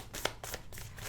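A tarot card deck shuffled by hand, quick close riffling bursts in an uneven rhythm over about a second, faint and alone.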